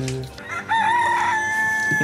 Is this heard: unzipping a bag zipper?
no